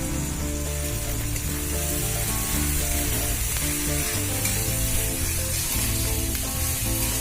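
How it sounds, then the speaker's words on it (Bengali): Garlic paste and ginger paste sizzle in hot oil in a pan while ghugni is being cooked. The frying hiss is continuous and fairly loud, with background music playing underneath. "এরপরে আমরা প্রথমে রসুনের বাটা দিয়ে দেবো, আদা বাটাটা দিলাম"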